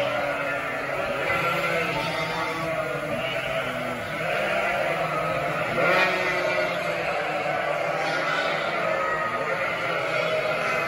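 Ewes in an indoor family pen bleat over and over, their overlapping calls near and loud above a steady barn hum for about eleven seconds.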